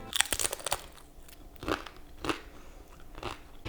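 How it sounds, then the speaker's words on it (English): Oven-baked, oil-free tortilla chips crunched and chewed up close, a series of sharp crackling bites and brittle snaps with short pauses between them, fairly quiet and with no talk. "But listen to this crunch."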